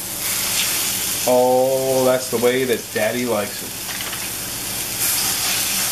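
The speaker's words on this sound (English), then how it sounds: "listen to that sizzle" Steady sizzling hiss of four beef burger patties searing in a hot pan, with someone talking over it partway through.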